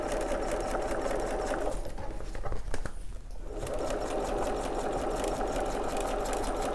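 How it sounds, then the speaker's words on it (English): A sewing machine runs steadily stitching an easy-to-sew fabric, a continuous close whirring that briefly dips around the middle before resuming at full pace. "do just a couple of stitches just to secure that. And round we go."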